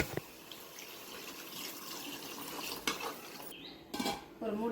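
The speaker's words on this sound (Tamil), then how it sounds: "ஸோ நம்ம இப்போ தண்ணி ஆட் பண்ணிக்கலாம்." Water is poured into a pan of mutton gravy amid clinking of a utensil against metal cookware, with splashing and pouring sounds that grow stronger toward the end.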